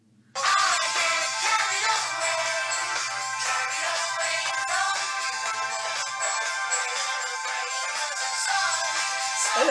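A phone ringtone plays loud and close, a bright synthetic melody starting abruptly and repeating continuously for several seconds with no talking over it.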